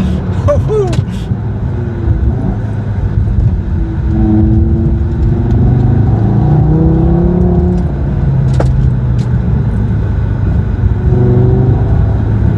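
A first-generation Audi TT 8N drives along a winding mountain road, its engine humming steadily from inside the cabin and rising and falling gently with speed, while someone talks over it.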